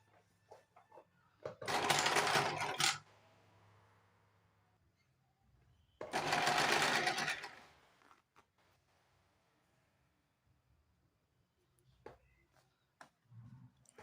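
Two bursts of an electric sewing machine stitching around a blouse sleeve, each running about a second and a half, separated by quiet pauses with small handling clicks and rustles.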